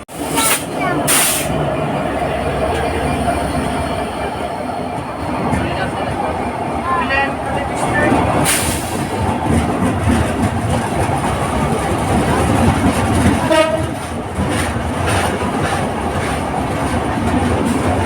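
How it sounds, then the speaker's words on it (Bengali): A train approaches near the Jamuna bridge on its single-line track, a steady loud rumble with a few sharp horn-like bursts, while someone talks over it. "পূর্ব পাশ থেকে ট্রেন একটা আসছে"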